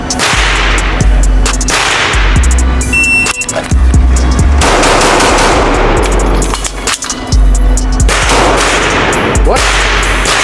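Handgun shots in a shooting drill with double taps and a reload, loud and close: a run of sharp cracks in uneven groups with short pauses between them, ringing over an outdoor range without talk.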